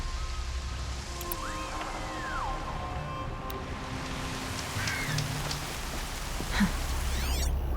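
Rain falls steadily in the video game Horizon Zero Dawn, a soft, even hiss of drops on the ground with scattered faint chirps and small game sounds over it.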